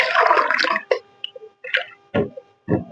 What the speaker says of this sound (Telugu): ఒక గ్లాస్ వాటర్ వేసినాం కాబట్టి